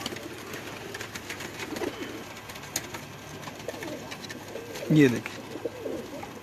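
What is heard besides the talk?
pigeons cooing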